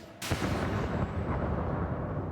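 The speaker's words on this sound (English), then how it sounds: "A grenade ripped through the bar. The gunmen emptied their automatic weapons" A grenade explodes in a bar during a terrorist attack, with automatic gunfire. A sudden loud blast is followed by a dense, sustained rumbling roar with no voices.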